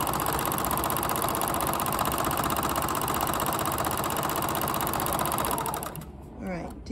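Sewing machine stitching steadily during free-motion quilting on an up-cycled quilt top, a loud continuous mechanical whir with rapid needle rhythm that runs for most of the stretch, then stops and leaves a quieter room with a brief voice.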